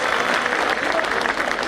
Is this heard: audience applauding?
yes